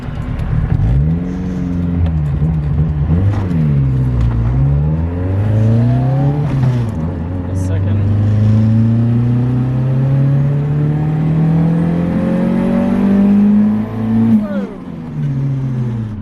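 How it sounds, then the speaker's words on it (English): Toyota Starlet turbo car running about 22 psi of boost, engine droning and rising through the gears in long sweeps, with a faint turbo spooling whistle climbing on top, heard close from inside the cabin. "Actually got a bit of spooling noises then."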